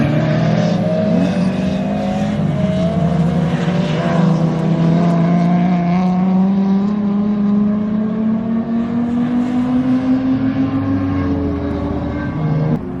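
Honda S2000 engine on a race track during time attack driving, revving continuously with rising and falling throttle blips, loud and close for the whole stretch with a steady drone underneath.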